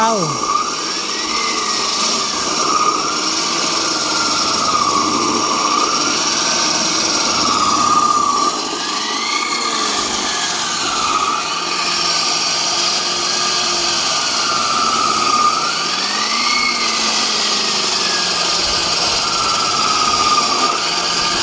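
A chainsaw runs steadily close by, its engine whine rising and falling in repeated cycles as it revs and cuts.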